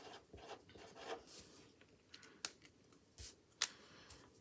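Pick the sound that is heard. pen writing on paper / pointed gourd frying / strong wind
pen writing on paper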